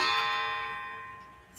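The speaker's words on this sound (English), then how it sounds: "Oh, there goes my chimes." Chimes ring out with a clear, bright metallic tone that sustains and slowly fades, with a faint new strike at the end, heard close and alone without talk.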